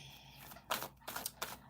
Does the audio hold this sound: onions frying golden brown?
no